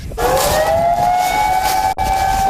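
A loud tsunami warning siren wails, its tone rising and then holding a steady pitch, close and continuous with a brief dropout near the end.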